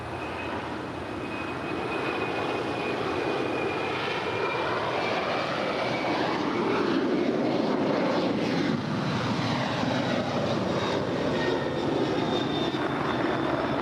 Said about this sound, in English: We also see United Airlines Flight 2737 heading to San Francisco in a 737-900 ER